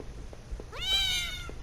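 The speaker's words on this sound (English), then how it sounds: "Come here, cat. Freaking meow at me." A single drawn-out cat meow in the Home horror adventure game, rising then falling, clear and close against a quiet, faintly clicking background.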